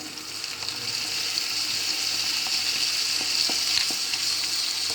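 Ginger-garlic paste sizzles and crackles steadily in a pan with a bright, hissy frying sound, punctuated by a few soft pops and stirring scrapes.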